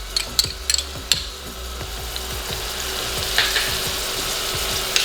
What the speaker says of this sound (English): So get that garlic going around in there, moving around in there.